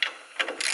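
A ratchet tightens the bolts on a car brake hose, giving short bursts of close, crisp clicking that come in quick repeated strokes and grow denser toward the end.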